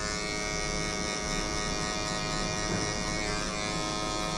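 An electric hair clipper hums steadily and close by as it trims hair during a face-shape-based anatomical haircut, the clipper fitted with a half guard and curved off at the ends, buzzing continuously with no talk.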